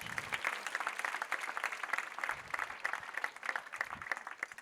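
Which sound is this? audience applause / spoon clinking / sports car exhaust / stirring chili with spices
audience applause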